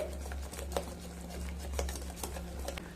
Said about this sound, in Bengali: এইভাবে তিন থেকে চার মিনিট খুব ভালোভাবে মিশিয়ে নিতে হবে